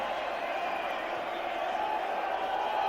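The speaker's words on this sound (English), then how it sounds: "the crowd that stayed back after Tendulkar's dismissal is enjoying it" A large cricket stadium crowd at a 2005 India vs Pakistan Test in Mohali cheers steadily after boundaries, a dense continuous roar with scattered whoops, fairly distant and unbroken throughout.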